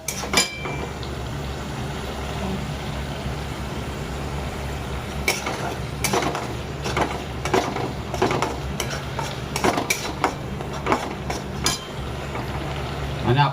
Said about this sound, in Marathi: थोडंसं मी अजून तेल टाकतो म्हणजे चांगलं खरपूस भाजून घ्या कांदा